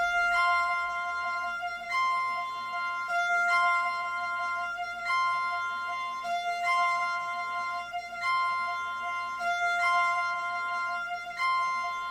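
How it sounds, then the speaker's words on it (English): A bright, sustained violin sample, pitched up and played at half-time, has a slightly synthetic, stretched quality, moving through long held notes in a slow, repeating phrase. "with the violin, I basically just pitched it up and half-timed it."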